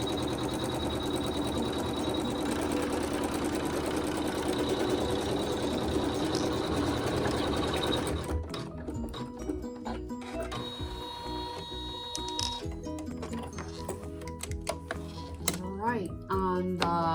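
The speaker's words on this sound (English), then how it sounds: "with water-soluble thread, you're going to sew the tack down stitches" An embroidery machine sews tack-down stitches with water-soluble thread on a quilt block, a continuous rapid mechanical hum and clatter, steady at first then turning choppier with stops and starts.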